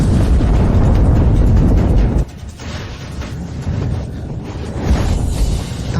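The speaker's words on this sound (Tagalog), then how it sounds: "Sumabog." A loud, sustained blast roars for about two seconds, then drops abruptly into a lower rumbling wash that swells again.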